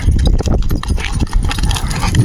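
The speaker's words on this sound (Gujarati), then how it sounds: "આ આપણી તેજલ ઘોડી બહુ સારી છે" A mare moves close by, with a dense run of hoof clops and scuffs over a rough, noisy outdoor background.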